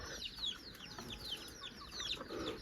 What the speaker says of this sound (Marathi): आणि इकडं कोंबड्या